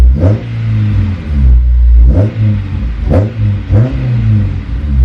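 A Honda S2000 fitted with a Magnaflow exhaust revs loud and close, with several sharp throttle blips rising over a deep, steady idle rumble.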